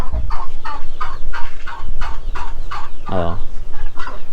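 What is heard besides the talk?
chickens clucking in a chicken coop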